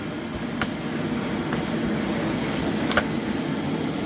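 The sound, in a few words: vacuum cleaner running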